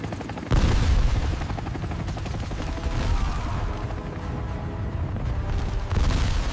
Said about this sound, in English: we have an helicopter over the city. Then it gets hit by an RPG. It crashes to the street.